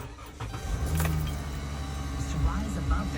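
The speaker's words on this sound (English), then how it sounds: "Now next, you wanna cut the car on." A car engine starts and idles up close, with faint key and interior clicks around it and a voice talking over part of it.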